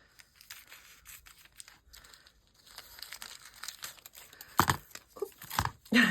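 Paper washi tape rustles and crinkles close up as it is cut, with soft scattered handling noises that grow into a few sharper snips and crackles toward the end.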